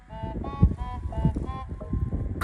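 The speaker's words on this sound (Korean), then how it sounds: "직박구리." A brown-eared bulbul gives repeated harsh, squealing calls on Hallasan mountain, loud and close, several strident notes in a row over outdoor hiking ambience.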